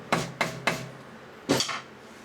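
Hammer blows during a rebuild of a 1979 Harley-Davidson 93ci Shovelhead motorcycle engine in a workshop: three sharp, evenly spaced close strikes, a short pause, then a heavier ringing hit.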